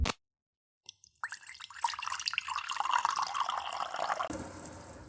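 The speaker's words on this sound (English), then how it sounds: "Pre-rinsing the fabric so it soaks up all the dye." Fabric being pre-rinsed under a running sink tap before dyeing: after a near-silent start with a short knock, water splashes up and pours steadily at close range, then drops to a softer trickle near the end.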